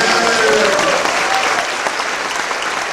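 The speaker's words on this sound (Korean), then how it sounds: "크게 박수로 축복합니다" A Korean holiness church congregation applauds loudly at an elder's installation service, a full, sustained burst of many hands close by, with a voice faintly underneath.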